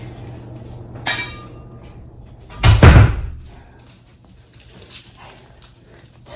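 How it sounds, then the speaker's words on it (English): A household door is shut in a dim room with a single loud thud and rattle, preceded by a brief click, followed by quiet room noise. "shut the door so it's really dark."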